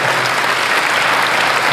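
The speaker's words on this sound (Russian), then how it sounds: "И пока вы будете аплодировать мне, да, до тех пор я буду стоять на этом месте." Circus audience applauding, a loud, dense and steady wash of clapping from a large crowd throughout.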